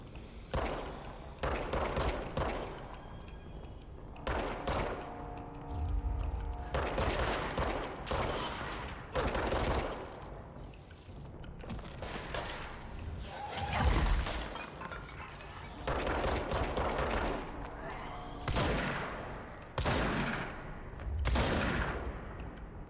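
Repeated shotgun blasts and bursts of gunfire from the video game Control, loud and close, arriving in irregular clusters with brief gaps between volleys and no talking over them.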